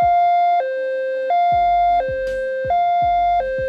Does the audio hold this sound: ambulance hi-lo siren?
yes